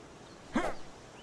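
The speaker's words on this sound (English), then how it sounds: "I still hear my stomach growling." A single short, low gurgling rumble from a character's stomach in the survival video game Stormy Islands, rising briefly out of quiet background and fading within a moment.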